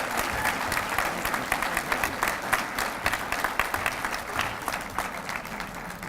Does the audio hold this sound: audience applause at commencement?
yes